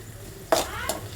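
Onion and green chili cook in a pan, with a soft sizzle under a few sharp bursts of scraping and stirring against the metal, close and clear with no talk.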